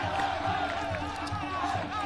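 A crowd of Japanese fans at an under-24 world championship quarterfinal against Italy cheers and roars in a dense, continuous wash, with commentary talk running over the noise.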